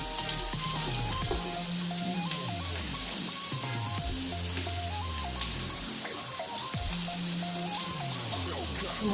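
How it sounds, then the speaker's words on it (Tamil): Chopped shallots fry in a pan with a steady, continuous sizzle that holds throughout, mixed under background music. "வெங்காயம் போட்டு நல்லா வதங்கணும்."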